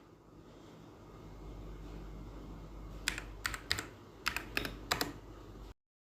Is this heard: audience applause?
no